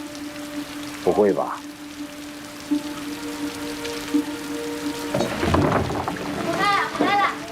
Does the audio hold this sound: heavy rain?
yes